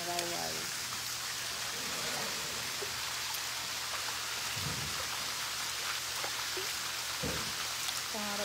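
Light rain falls in a steady, even hiss of soft patter, with faint voices surfacing briefly now and then.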